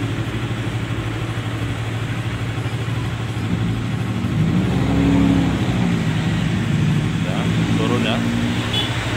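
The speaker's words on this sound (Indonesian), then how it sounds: "RPM-nya turun, Bro. Oke, RPM-nya turun." A Yamaha Vixion motorcycle with a charging-system fault and a weak battery idles with a steady, close engine hum that swells slightly midway as the revs shift, while someone talks over it.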